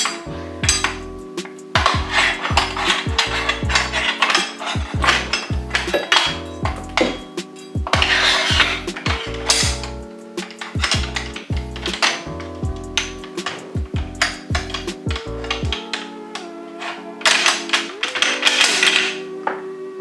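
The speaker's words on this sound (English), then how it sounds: "take your op rod assembly, insert into the rifle" M1 Garand operating rod assembly being fitted into the rifle with the bolt, a series of sharp metallic clicks, clinks and slides, close and fairly loud, in irregular bursts with short pauses.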